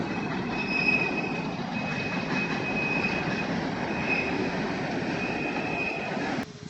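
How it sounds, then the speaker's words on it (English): A train rumbles steadily past nearby at Harpers Ferry, its wheels giving a thin metallic squeal over a constant low roar that cuts off abruptly at the end. "There's the train going the other way."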